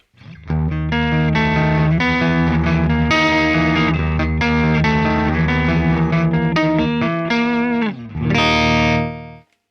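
An electric guitar plays a sustained phrase through the Neural DSP Archetype: Gojira amp plugin with gritty, mildly broken-up distortion and a bit of chorus shimmer, loud and close.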